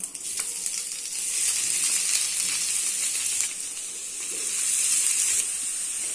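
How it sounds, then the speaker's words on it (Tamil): Grated carrots go into melted ghee and butter in a pan for carrot halwa and fry with a steady, bright hiss that swells and eases in waves, close and continuous. "இப்ப நான் இதுல கேரட்டை போடுறேன்."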